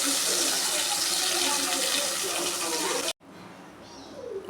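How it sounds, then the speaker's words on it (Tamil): Water pours steadily into a blender jar for about three seconds, then stops abruptly, leaving faint room noise and a small clatter. "ஜார்லேயும் ஒரு நூறு எம்எல் தண்ணிக்கிட்ட ஊற்றி நல்லா கழுவி ஊற்றிக்கிங்க"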